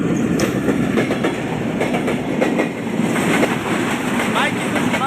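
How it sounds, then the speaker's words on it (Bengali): A train rolls past along railway tracks during a trip in Rajbari, a loud, continuous rumble and clatter of wagons running close by for the whole stretch, with voices faintly under it. "এই যে গাইস দেখেন ট্রেন চলে আইছে"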